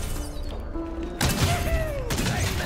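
A cannon fires in Plants vs Zombies Garden Warfare 2, a sudden loud burst followed by a rising whistling streak and rumbling game noise.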